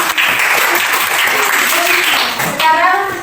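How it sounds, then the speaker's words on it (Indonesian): A fourth-grade elementary class claps for a classmate, a lively burst of many small hands applauding steadily, with a voice rising near the end. "Oke, tepuk tangan untuk Silviana."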